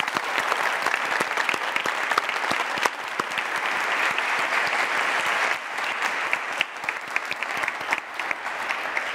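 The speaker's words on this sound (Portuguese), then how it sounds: "uma salva de palmas" An audience at a televised stage interview event claps steadily for young actors and guests, a dense, even round of applause lasting throughout at moderate loudness.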